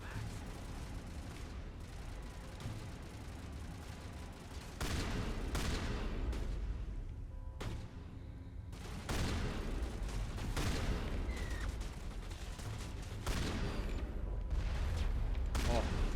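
Shotgun blasts in the video game Mass Effect: Legendary Edition fire in repeated bursts amid other combat noise, with a voice talking over the gunfire.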